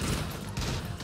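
Dense, continuous gunfire bursts from a VR shooter video game fill the whole short stretch, loud and sustained with no pauses.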